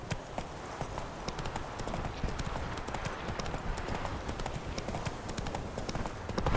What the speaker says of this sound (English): when I'm riding the horse